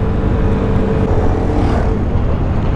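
Around fifteen motorcycles touring together toward Dieng on a steep downhill road produce a dense, continuous roar of engines and wind, loud and close throughout with no pauses.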